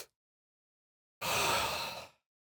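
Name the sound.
deep breath in during a breathing exercise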